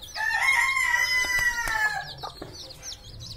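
A desi and Kadaknath rooster gives one loud, close crow, followed by a few short clucks and chicken calls from the flock.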